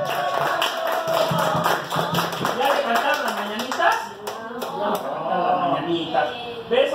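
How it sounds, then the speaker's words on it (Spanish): Clapping at an adult's birthday party with clowns in Santa Isabel Tultepec, honoring the birthday woman; rapid, dense applause runs steadily throughout, mixed with lively crowd voices and chatter over a busy room. "Más fuerte los aplausos a la festejada"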